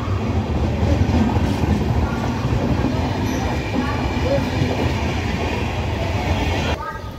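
A train at Bidhannagar station makes a loud, steady rumble and rattle of wheels and carriages, with voices faintly underneath. The noise eases slightly near the end.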